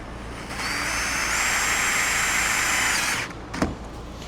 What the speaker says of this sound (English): Obviously, pilot holes are the way to go.